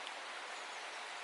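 Heavy rain pours steadily onto a flooded mountain walking path, a soft, even hiss of falling water with no voices.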